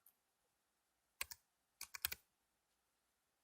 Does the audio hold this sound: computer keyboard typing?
yes